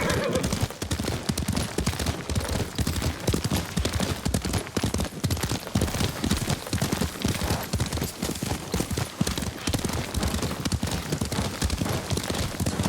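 Rapid hoofbeats clatter continuously as a horse gallops in the video game Ghost of Tsushima, with a dense, busy background and no clear pauses.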